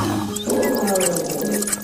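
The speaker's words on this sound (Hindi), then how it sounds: "गुस्से में आकर शेर जोर जोर से दहाड़ने लगा।" A cartoon lion caught in a hunter's net roars angrily, a sustained, rumbling growl that carries loudly and steadily for the whole stretch, with no talking over it.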